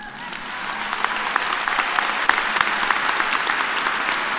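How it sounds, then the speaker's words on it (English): Graduates at a Kansas State University spring commencement applaud the class of 2018, a broad roomful of clapping that builds quickly and stays steady, with a few sharper claps poking through. "A round of applause for the class of 2018."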